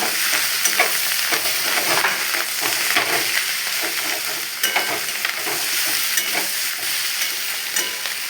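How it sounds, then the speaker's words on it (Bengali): Egg mixture with turmeric frying and being stirred in a pan, a steady close sizzle with repeated scraping stirs throughout, no talk. "আরও কিছুক্ষণ ভাজো লাল লাল করে"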